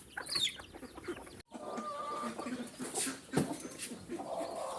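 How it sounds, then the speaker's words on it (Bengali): A hen with a fresh brood of about thirteen or fourteen newly hatched chicks on a farm that also keeps cattle and ducks, giving soft clucks among the chicks' faint cheeping, with steady outdoor background noise. "আজকে এই মুরগিটা বাচ্চা নিয়ে উঠছে"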